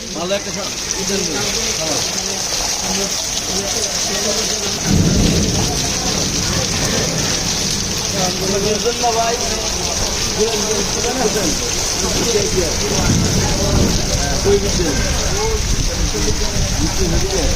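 Heavy rain pours down in Tejgaon, Dhaka, a loud, constant wash of drops hitting surfaces that swells after a few seconds, while people talk and call out over it.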